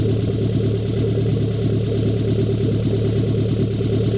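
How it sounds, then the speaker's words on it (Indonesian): A Daihatsu Xenia car engine idles steadily and loudly up close with no exhaust downpipe fitted, a constant low rumble with a rapid, even pulsing and no other sounds. "Ini saya starter ini tanpa terkonek, tanpa ada downpipe"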